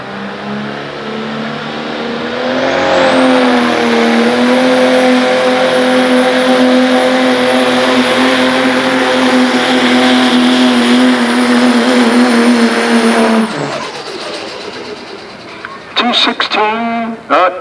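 A 1997 Dodge diesel truck in a pulling competition roars as it climbs to a loud sustained high-rpm drone, holds it for about ten seconds, then drops off sharply, with crowd and announcer sounds mixed in.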